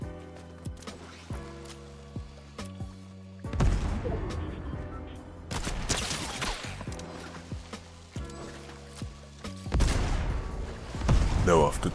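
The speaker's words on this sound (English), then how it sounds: "I easily dominate him with EMINEM's minigun" Eminem's minigun fires in a battle royale video game, giving loud, rapid bursts of gunfire with heavy booming impacts that repeat and swell across the stretch.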